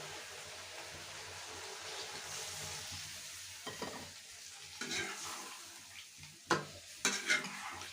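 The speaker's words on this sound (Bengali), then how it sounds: "আমি এখন হালকা জল দিই।" Papaya curry keeps sizzling and frying in a pan after a splash of water goes in, a steady hiss broken by a few sharp spits and spoon-stirring scrapes near the end, quiet and close with no talking.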